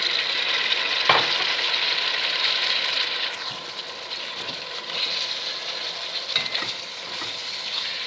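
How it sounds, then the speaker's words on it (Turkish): Steady frying sizzle of chopped chicken and onions in a hot pan, with occasional stirring and scraping sounds over a continuous bright hiss. "Soğanımı əlavə etdim ki, soğanla birlikdə yaxşı-yaxşı qızarsın."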